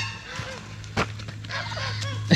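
Several turkeys on a backyard trampoline give short, scattered calls and honks at close range, with a couple of sharp thumps from the trampoline among them.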